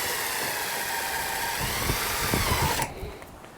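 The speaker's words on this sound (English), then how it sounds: "Use a small drill bit as a pilot hole so the 5/16 doesn't slide." A small drill bit bores a pilot hole for a bracket on an RV awning, the power drill whining steadily and fairly close for nearly three seconds before cutting off.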